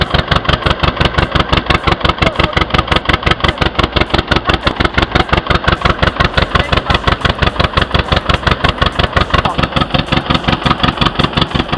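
A tractor engine chugs steadily with a fast, regular rhythmic pulse, loud and close, running continuously throughout while driving through floodwater.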